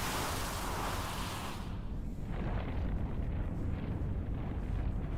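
Explosions rumble through a battle scene in The Legend of Dragoon, a dense, continuous roar with heavy low-end booms and a hissing blast that fades after the first two seconds into a sustained rumble.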